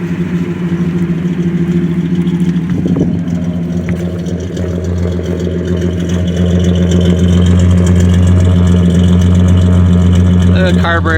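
Slant six engine of a 1965 Plymouth Valiant, 170 cubic inches, idling through a custom two-inch exhaust with a deep, steady rumble that swells louder partway through, heard close up with a voice briefly over it.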